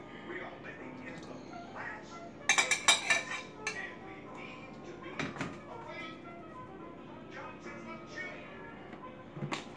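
Boiled potatoes and eggs go into a bowl for potato salad, with clinks and knocks of utensils and dishware in a kitchen. A burst of clatter comes early, then scattered taps follow under a voice talking.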